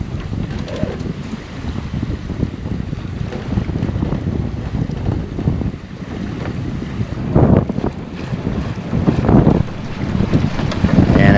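Strong wind gusts buffet a sailboat heeled around 30 degrees at sea, a loud roaring rush of wind against the microphone mixed with sloshing water and surging gusts.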